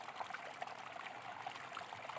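Water flows out from between rocks at a natural fountain in Samahni, Azad Kashmir, making a continuous, even trickling and splashing rush that stays moderately soft and steady throughout.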